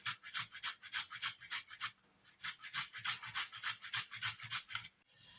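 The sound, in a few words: grating fresh ginger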